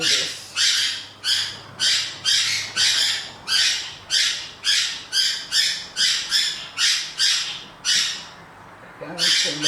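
Birds squawk loudly in a steady run of about fifteen harsh, evenly spaced calls that keep going without a break. The squawks sit close by and stand out by themselves, with no talking over them.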